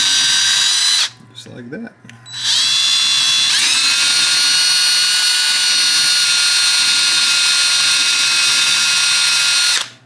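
Power drill spinning a snow blower carburetor brass part to polish it, a steady high-pitched whine that starts, briefly stops with a short spoken remark, then runs loud and continuous until cutting off at the end.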